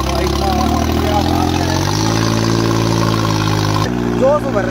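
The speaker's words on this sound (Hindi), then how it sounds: "जोर से भर रहा है ट्रैक्टर, क्यों आवाज है ना इसकी।" A New Holland 3630 Super tractor engine runs steadily at close range, a loud and even idling drone that shifts pitch slightly partway through, with someone talking over it.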